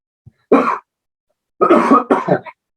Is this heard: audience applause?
no